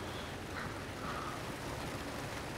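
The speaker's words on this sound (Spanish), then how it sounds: "Está lloviendo aquí" Steady rain falls in the Achocalypse video game, a constant soft hiss at low level with no pauses or distinct drops.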